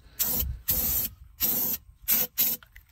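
Bursts of spray coating being applied to a golf cart body, five separate hissing blasts of about half a second each with short pauses between, close and fairly loud.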